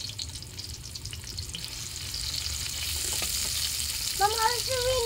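Pancit noodles simmer with coconut milk in a pan, giving a soft bubbling sizzle under quiet stirring, and a brief whistling or squeaking tone appears near the end.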